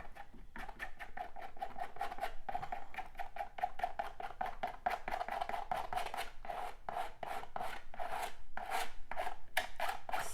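A surface is patted and scraped by hand in a rapid run of close, dry rasping strokes that builds into a dense, steady rhythm, with no talk.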